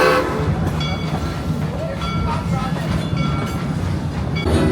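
A Kings Island amusement park ride train rumbles and clatters steadily along its track, a loud continuous mechanical roll with faint tonal whistle-like streaks and light crowd noise.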